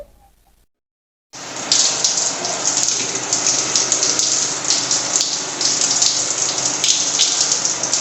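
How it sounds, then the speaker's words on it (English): Tap water runs steadily to dampen hair before shampooing, a loud, close hiss and splash that starts after a short silent gap and continues alone. "the first thing to do is to damp my hair with water before I apply my shampoo"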